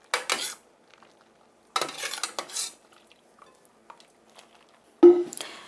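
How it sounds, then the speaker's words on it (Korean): Utensils clinking and scraping against dishes while cooked jujubes from a pressure cooker are put into a piping bag, in a few separate short bursts with a sharper metallic knock near the end. "짤주머니에다가 이렇게 이제 넣어줬잖아요, 대추를"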